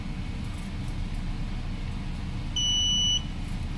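A JRC NAVTEX receiver's self-test buzzer sounds a single steady electronic tone for about half a second over constant low background hum, then briefly starts again.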